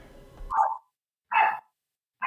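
A second dog, not the one heard earlier, lets out three sharp barks spaced about a second apart, loud and close, in an indoor room with a faint hum before the first bark.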